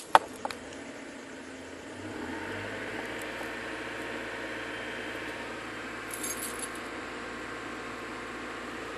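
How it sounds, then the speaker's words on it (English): A hydrogen-modified Honda engine running on test, quiet and idling at first, then revved up to a louder steady drone that holds for several seconds, with a few small metallic clinks near the start. "Let's gun the engine a little bit,"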